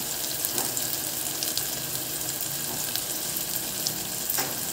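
Onion and tomato sizzle and fry in a pan, a steady close crackling hiss with occasional faint clinks, no talking.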